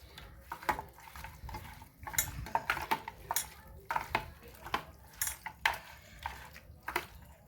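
Chicken is mixed by hand with turmeric and raw mustard oil in a bowl, close squelching and stirring with light clinks against the bowl in an irregular rhythm.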